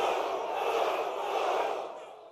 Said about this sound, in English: I want you to punch your hands in the air and say boom 3 times.